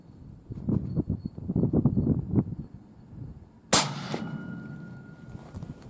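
A Ruger American Predator rifle fires one suppressed supersonic shot through a long tube screw-on suppressor: a single sharp, loud crack followed by a short ringing decay, after a stretch of quieter low shuffling noises.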